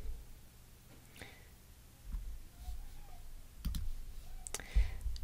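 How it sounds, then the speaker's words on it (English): Soft computer mouse clicks sound in a quiet room, a few isolated taps spread over several seconds, faint and close, with no talking. "you'll see quick setup, click that."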